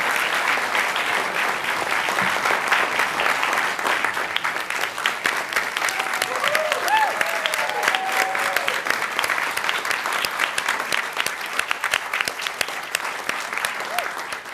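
Steady round of applause from people at a Raleigh city council meeting honoring the 2022 Employees of the Year, dense even clapping throughout with a few faint voices underneath.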